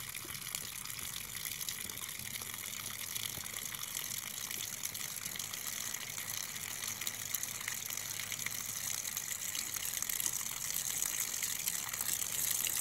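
Cold water pours steadily from above into a bottle, a constant close gushing rush with no pauses and no voices.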